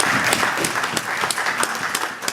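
A funeral service congregation for a pastor breaks into steady, dense applause that is loud and close, with no pause over about two seconds.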